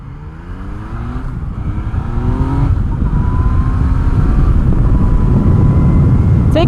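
A 2019 Yamaha MT-09 motorcycle pulls away on a sunny road in Austin, Texas, its engine note rising steadily through the gears, loud and close throughout with no talk.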